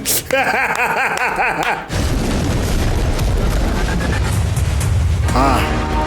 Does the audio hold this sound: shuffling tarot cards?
no